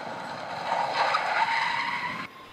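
Car tires squealing and skidding as the vehicle brakes hard to a stop, a loud sustained screech lasting about two seconds before cutting off abruptly.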